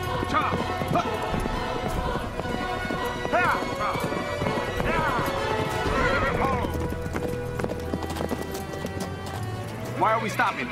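A lame horse's hooves clip-clop rapidly and repeatedly while the animal neighs several times, with voices and other activity mixed in around it.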